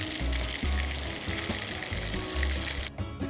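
Filipino longganisa sausages, fatty and garlicky, fry and toast in a pan with a steady, close sizzle and crackle, punctuated by soft low bumps throughout.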